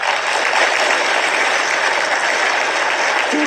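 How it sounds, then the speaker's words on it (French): A crowd claps steadily and evenly for a few seconds, a dense, continuous wash of applause at moderate loudness with no voices over it. "La foule applaudit."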